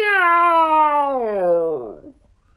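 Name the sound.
person imitating a cat meowing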